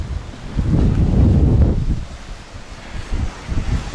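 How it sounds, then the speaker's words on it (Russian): Strong wind on a beach at Yevpatoria, Crimea, buffets the microphone in a loud, low rumbling gust that swells and fades, followed by smaller gusts. "Приносим извинения за сильный ветер."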